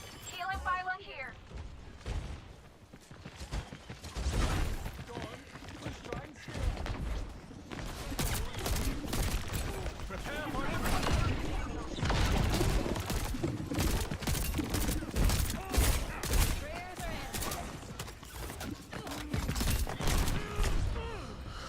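Rapid video-game gunfire crackles in repeated bursts through a busy team-shooter match with a healing pylon and a payload to stop, mixed with explosions and effects while players talk over it.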